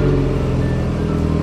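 A new car with paddle shifters and sport mode idles with a deep, steady engine rumble, heard close from inside the cabin over a brief stretch with no voices.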